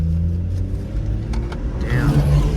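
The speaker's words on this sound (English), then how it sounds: "little pops and the upshift burble." A tuned BMW 440i with aftermarket downpipes revs loud and close, its engine drone climbing steadily, and a brief crackle near the end could be exhaust pops on the upshift.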